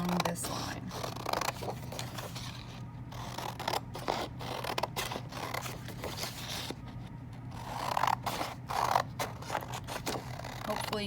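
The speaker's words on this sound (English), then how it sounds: "you're going to cut right along this line" Scissors cut along a drawn line in colored paper for a Keith Haring-style art piece, giving a steady run of quiet, close snips and paper rustles against a low background hum.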